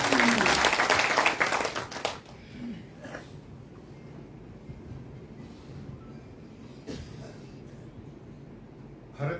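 Applause from an audience welcoming a speaker at a party gathering at BJP headquarters. Loud, dense clapping fills the first two seconds, then drops to a murmuring room with faint scattered sounds.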